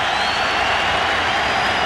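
Large stadium crowd at a 1998 West Virginia vs Miami college football game cheering on its feet, a continuous broad roar that holds steady at high level without a break.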